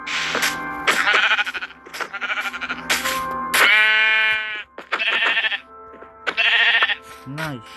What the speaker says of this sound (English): Nice sheep.